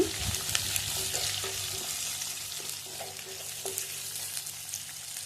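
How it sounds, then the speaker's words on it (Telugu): Green chillies and onions fry in oil for a ridge gourd masala, with a close, steady sizzle and several light stirring scrapes spaced through it. "పచ్చిమిర్చి వేసుకోవాలి. కలుపుకోండి. ఉల్లిపాయలు వేసుకోవాలి, కలుపుకోండి."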